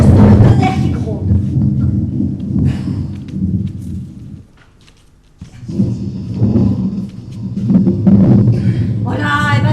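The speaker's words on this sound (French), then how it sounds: "C'est juste le tonnerre qui gronde." Low rolling thunder rumbles through a storm in long waves, loud and close, with a brief lull midway before it swells again; hens and a voice can be heard at moments.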